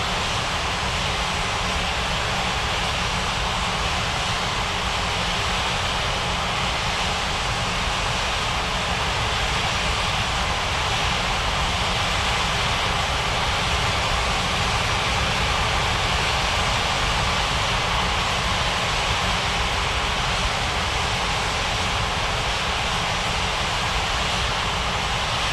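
An airliner landing in an air traffic control game produces a steady, loud broadband jet engine roar that holds constant without pause for the whole stretch.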